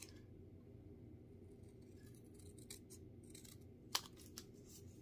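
Scissors trimming excess paper off a handmade greeting card, a few faint, close snips and crisp paper clicks against quiet room tone.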